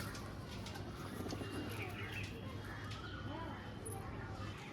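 Pigeons kept in a sale collection coo softly and faintly in a quiet space, low murmuring calls repeating over a few seconds beneath a muffled voice.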